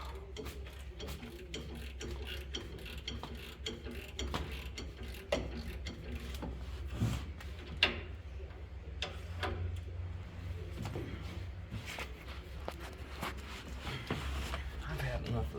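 Ratchet and socket loosening a brake caliper bracket on a Ram 3500 Cummins truck, a steady rapid clicking of the pawl running almost continuously close by, with a low hum underneath and voices talking over it.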